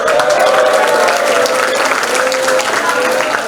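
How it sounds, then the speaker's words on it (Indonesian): A crowd applauds steadily throughout at a vocational high school in Jakarta, a dense wash of clapping at fairly even loudness with a faint voice underneath. "Tepuk tangan."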